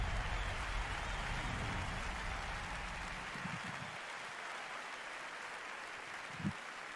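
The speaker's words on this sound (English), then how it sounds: "Another round of applause" Audience applause at the Bethesda E3 2019 press conference, a dense steady wash of clapping across the hall that holds for several seconds, then thins and softens toward the end.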